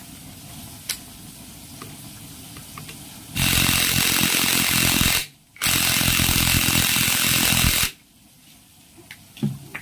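A power tool tightens an engine bolt on a Kawasaki Barako motorcycle during an engine overhaul, running in two loud, steady bursts of about two seconds each with a brief pause between them.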